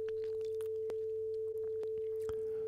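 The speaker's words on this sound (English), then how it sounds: "Change the frequency of the sine wave. This changes the pitch." Pure steady sine tone from a software tone generator plugin, a single clean unwavering pitch held throughout at moderate level, with only faint clicks in the background.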